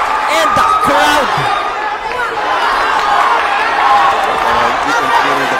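Crowd at a WBO Asia Pacific Youth boxing match between John Paul Gabunilas and Wandi Priman, loud continuous arena chatter and cheering with whoops rising over it, a commentator talking throughout.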